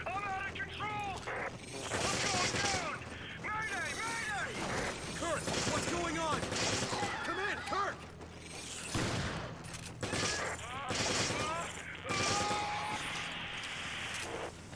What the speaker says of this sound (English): Can you fucking stop shooting me?